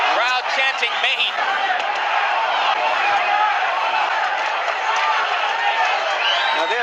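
Boxing crowd at the Chavez vs Taylor fight chanting and roaring continuously, a dense, loud wall of voices filling the arena with no pauses.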